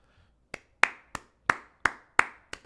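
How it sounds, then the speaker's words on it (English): Seven sharp, separate hand claps arrive at a quick, slightly uneven pace, loud and close with short decays and no voices. "Let's give a hand clap for Ben Simmons."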